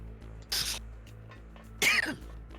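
A single sneeze bursts out loudly against a quiet room, followed by a second sharp sneeze-like burst about a second later, with faint background hum between them.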